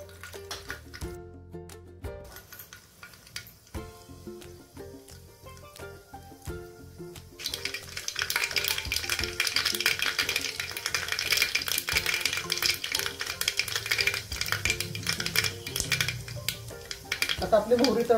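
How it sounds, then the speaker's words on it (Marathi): Mustard seeds crackle in two spoons of hot oil inside a heated pressure cooker. The dense spitting starts partway through and continues steadily under music, after a quieter stretch at the start. "आता आपली मोहरी तडतडली"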